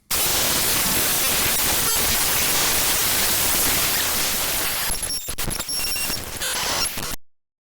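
Raw computer file data played back as audio produces loud, harsh, continuous static like dense white noise, with some glitchy flickering tones near the end before cutting to silence.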